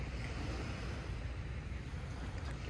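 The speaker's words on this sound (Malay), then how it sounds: "Memang rasa tenang je dengar bunyi ombak kan" Ocean waves wash against the beach at Pantai Bagan Lalang in the morning as a steady, even hiss and rumble, with no voices over it.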